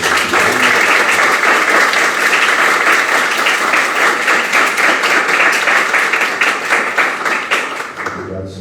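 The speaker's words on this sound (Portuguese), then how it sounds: "Eu gostaria de primeiro pedir uma salva de palmas aí para o professor." An audience claps steadily and loudly for a professor at a science café event about how vaccines work, with dense continuous applause through most of the stretch that thins out near the end.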